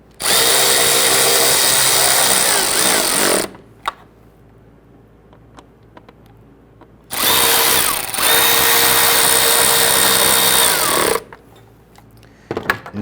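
Power drill snugging down the mounting bolts on a coolant reservoir of a 2011-2023 Dodge Charger 3.6L V6, running in two long, loud, steady bursts with a quieter pause between them and a brief buzz at the end.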